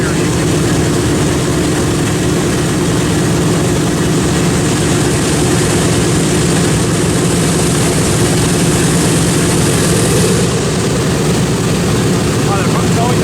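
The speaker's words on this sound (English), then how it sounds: "And a B-25 over there." B-25 Mitchell bomber passing overhead, a loud, steady propeller-engine drone filling the whole stretch without a break, heavy and continuous.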